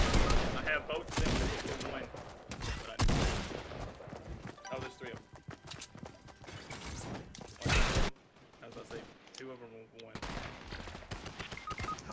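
Shotgun fire in a Fortnite Battle Royale match comes in several loud, sharp blasts mixed with other gunfire and game effects, while players talk excitedly over the shooting.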